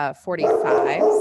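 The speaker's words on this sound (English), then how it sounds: "Excuse my dog barking." A pet dog at home barking, one quick yip then a longer, whining bark close by, loud and brief, with a person speaking at the very start.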